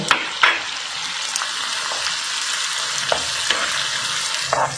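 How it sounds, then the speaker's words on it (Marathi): Edible gum sizzles and fries in plenty of hot ghee, a dense, even crackle close by, with occasional soft taps and clicks of a utensil. "आता डिंक तळून घ्यायचा आहे. थोडा थोडा डिंक घालायचा आहे."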